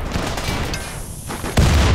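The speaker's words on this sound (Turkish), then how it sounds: "Taret patladı, iyi oldu." A turret explodes in the video game RimWorld during a raid, bursting out with a sharp boom amid rumbling gunfire-like blasts, followed by a heavier low thud near the end.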